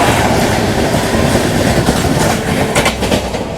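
Sampoorn Kranti Express train running at speed while overtaking a parallel train on Indian rails, with steady loud rumble and rhythmic clickety-clack of wheels over joints, close and continuous throughout.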